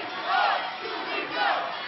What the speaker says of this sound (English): they're chanting, we are 2CW